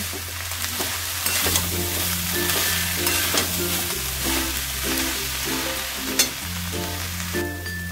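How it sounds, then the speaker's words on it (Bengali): Banana flower being stirred in a pan with soaked chickpeas and whole spices, a steady scraping and stirring over a soft continuous sizzle, close and fairly loud, with no voices. "আমি পুরো মশলার সাথে মোচাটাকে ভালো করে নাড়াচাড়া করে নিলাম"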